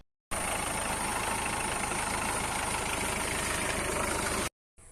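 Engine of a 2004 Ambassador Classic car idling, a steady, even rumble held close and continuous for several seconds before cutting off abruptly.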